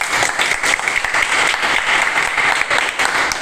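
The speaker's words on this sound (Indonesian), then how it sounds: "berikan tepuk tangan." Students in a classroom history lesson break into loud, continuous group clapping that stays even and dense from start to finish.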